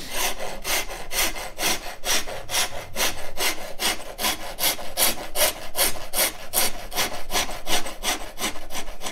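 The rounded side of a coarse rasp shapes a wooden guitar neck by hand, making close, rhythmic scraping strokes, about two or three a second, that repeat evenly throughout.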